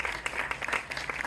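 Applause for a live band at a brewery's 13th anniversary celebration and market, a steady, moderately quiet patter of many hands with scattered sharper claps and no talk.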